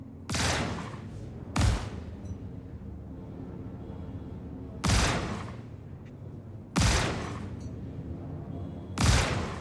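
Shotgun blasts in the video game Star Citizen, five heavy booming shots spaced irregularly about one to three seconds apart, each with a decaying rumble, loud and with no speech over them.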